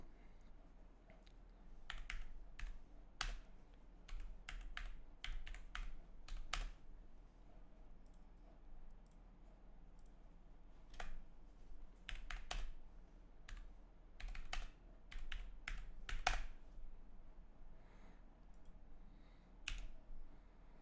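Typing on a computer keyboard while writing a prompt in a Figma AI plugin, with irregular bursts of crisp, close key clicks separated by short pauses, no voices.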